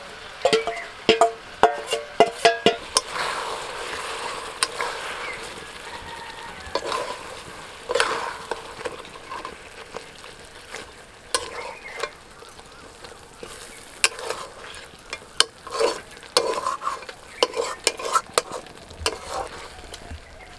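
Chicken pieces with marinated spice paste sizzle in hot oil as they are stirred, bursts of scraping and clattering over a steady frying hiss, close by.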